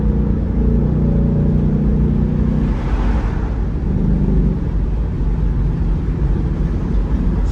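Ford Mustang GT with a 10-speed gearbox pulling hard on a highway, its engine note climbing steadily through several gears, loud and close over constant road and wind roar.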